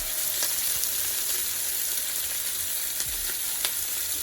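Tomatoes and Scotch bonnet pepper sizzling in a pot for Jamaican steamed fish, a steady close frying hiss with faint occasional taps and stirring, no talking.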